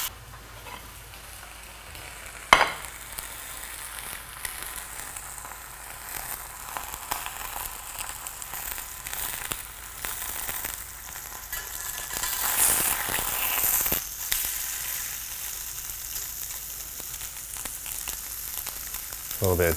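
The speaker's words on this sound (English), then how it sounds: "I'm gonna put a little bit of turkey in there." Turkey sizzles and fries steadily in a Stargazer cast iron skillet, a soft continuous crackle with occasional scrapes and clinks. There is no talking.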